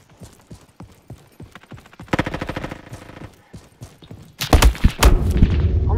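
Gunfire in a Roblox video game, rapid strings of clicky shots that start faint and sparse, then turn into denser bursts and finish in loud, booming blasts.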